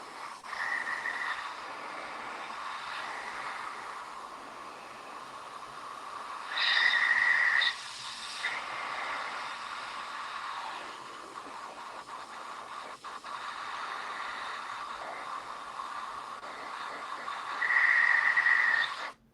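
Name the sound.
airbrush spraying air to dry makeup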